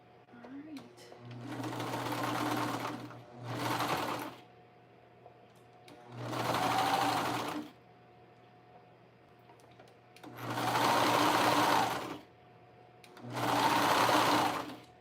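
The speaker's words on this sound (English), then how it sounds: "And then I can sew them in the round as well." A sewing machine stitches a sweater dress in the round, running in five separate bursts of steady whirring, each several seconds long with short pauses between, close and clear.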